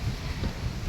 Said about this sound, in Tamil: காற்று நல்லா அடிக்குதுங்க.